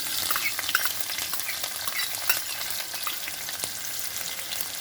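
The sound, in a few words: frying chopped onion in oil with cumin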